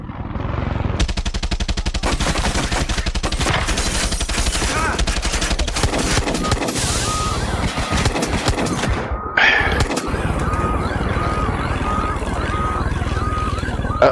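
Sustained machine-gun fire in Far Cry 6, with dense rapid bursts aimed at a target. It is loud and close, with a short break before another burst and mechanical game noise under it.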